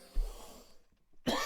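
A person with a cold coughs twice, a short, fairly quiet cough at the start followed after a pause by a sharper, brighter second burst.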